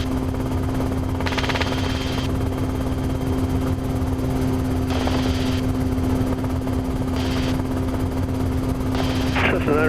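A heavy helicopter, around 33,000 pounds max gross weight, drones steadily and loudly with a constant rotor hum throughout, while radio chatter breaks in several times over it.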